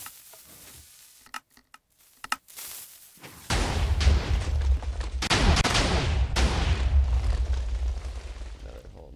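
Minecraft cannon fired repeatedly in the game: a few sharp cracks, then a sustained loud blast of layered explosions with rumbling lows that keeps surging for several seconds.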